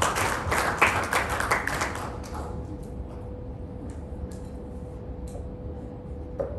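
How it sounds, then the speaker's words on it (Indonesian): A seminar audience claps for Pak Junaidi with a short burst of scattered hand claps that fades after about two seconds, leaving quiet room tone with a few faint ticks and knocks. "Kita beri aplaus untuk Pak Junaidi"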